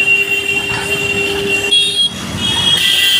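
A metro train at Asalfa station in Mumbai rumbles and hisses close by, with high metallic wheel squeal rising and falling over a steady mechanical hum.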